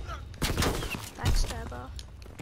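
Call of Duty WWII team deathmatch gunfire on PS4, a few short sharp bursts of shots in quick succession, mid-distance, with game sounds mixed in.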